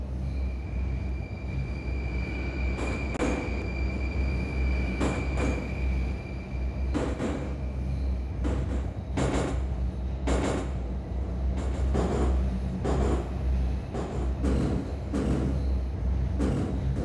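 A Moscow metro train on the Kaluzhsko-Rizhskaya line in the game Moscow Metro Simulator 2D pulls away with a steady low rumble, while repeated sharp clacks and brief high squeals punctuate the run.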